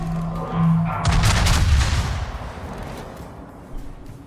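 Heavy naval gunfire from a Friedrich der Grosse battleship in the World of Warships video game: one booming salvo with a strong low rumble rolls out and fades over a few seconds.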